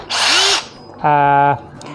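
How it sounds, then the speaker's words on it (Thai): A DeWalt DCH072 cordless rotary hammer drill whirs up from slow to full speed in a close, loud burst, then a second, more tonal burst follows after a brief pause. "สว่านตัวนี้นะครับจะค่อยๆหมุน แล้วก็ความเร็วก็จะเพิ่มขึ้นนั่นเองนี่"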